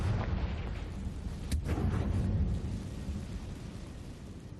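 A Confringo blasting spell explodes in Hogwarts Legacy on Switch, a deep rumbling boom with a sharp burst at its peak that fades into a long low roar, with no one talking.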